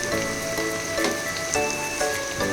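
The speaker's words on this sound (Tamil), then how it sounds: "பாதி அளவு வெங்காயம் வதங்கிடுச்சு." Sliced onions sautéing in a pan for potato biryani, a steady close sizzle with occasional stirring scrapes, no voices.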